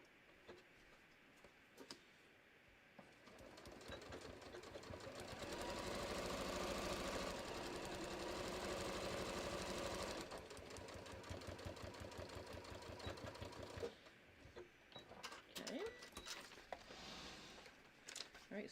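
Close sewing machine stitching a bucket hat along a seam, with a rapid ticking motor that builds into a sustained run for several seconds, then slows and stops, with scattered clicks from handling the fabric.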